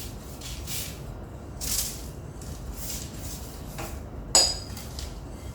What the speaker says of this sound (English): Now I'm going to layer this onto my foil pan.